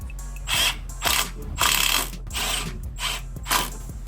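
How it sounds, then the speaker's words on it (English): A Milwaukee power ratchet works on a crashed Suzuki GSX-R 750 motorcycle, giving several short close bursts of buzzing mechanical clatter with brief pauses between them. "Milwaukee ratchet just died."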